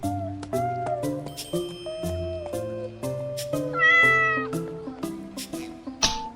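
An elderly man's pet cat meows repeatedly, a string of close, clear, pitch-sliding calls that follow one another with short gaps throughout.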